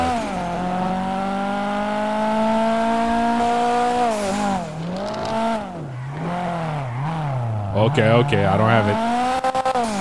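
A BMW M4 F82 in GTA 5 drives with a loud, steady engine drone that dips and swells as it shifts and revs, with tire squeal near the end; a voice speaks briefly over it.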